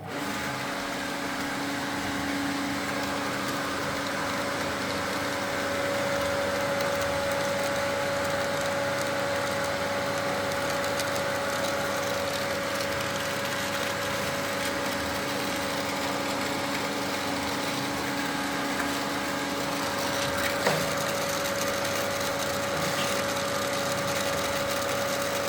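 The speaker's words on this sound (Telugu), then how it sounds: "ఇప్పుడు నేను పంప్ ఆన్ చేస్తున్నాను." A swimming pool filter pump runs during backwash, a steady, even motor hum with a constant tonal whine that continues unchanged for the whole stretch with no talking.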